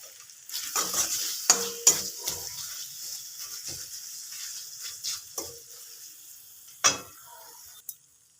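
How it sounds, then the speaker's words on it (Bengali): A mushroom and potato masala with tomato and a little sugar is stirred in a pan, with a constant sizzle under sharp spatula scrapes and clinks spaced irregularly across the clip. "আমি কষে নিচ্ছি"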